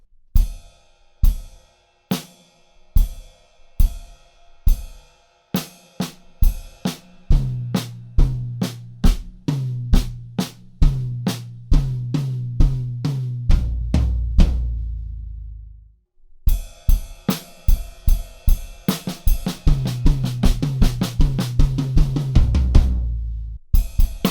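A drum kit plays a busy fill from a song, sharp hits and rolls building across the kit, with a roll running down onto a booming floor tom, a brief pause, then a second fill that again closes on the floor tom.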